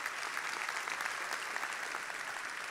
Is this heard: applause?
yes